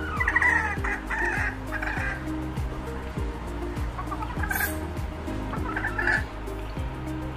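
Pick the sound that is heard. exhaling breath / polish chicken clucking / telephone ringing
polish chicken clucking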